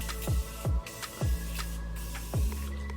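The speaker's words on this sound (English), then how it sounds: "Next, we're going to spray our face with the Morphe Continuous Setting Mist." Morphe Continuous Setting Mist sprayed onto a face in four short, soft hissing bursts that sit fairly close and are separated by brief pauses, with no talking.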